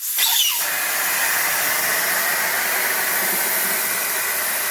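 Air rushes out of a Ducati Multistrada 1200 motorcycle tyre valve after the valve core is pulled, starting with a brief squeaky burst and then settling into a loud, steady hiss that continues alone throughout.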